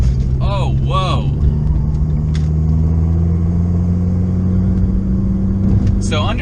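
A modified Abarth car's engine drones loud and steady from inside the cabin while cornering hard, a constant low rumble with faint tire squeal-like chirps and a voice speaking over it.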